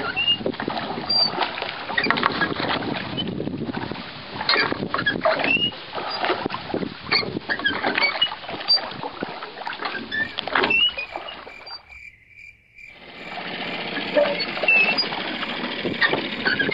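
Rowing a boat in the Biesbosch, with oar strokes, water splashes and knocking sounds close by, continuous and fairly loud outdoors, with a brief quiet gap near the end and no talking.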